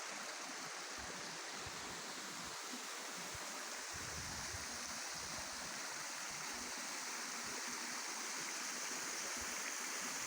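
A stream and waterfall at Dereova rush steadily with broad, even water noise, close and constant throughout, with no voices.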